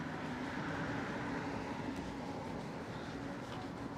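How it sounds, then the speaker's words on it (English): A New York City N subway train riding, with a steady, loud rumble and broadband rattle of the car in motion throughout, no clear speech above the continuous noise. "I'm already here on N train."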